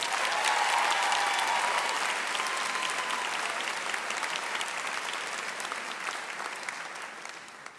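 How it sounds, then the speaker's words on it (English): Applause for an educator of the year award rises from a large convocation audience, a dense roomy clatter of hands that holds steady, then gradually tapers and fades. "That felt like a sympathy clap"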